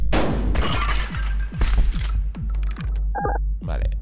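A string of sharp mechanical clicks and snaps of a shotgun being worked and fired in Buckshot Roulette, repeating in quick succession over a steady low hum, with a brief electronic blip near the end.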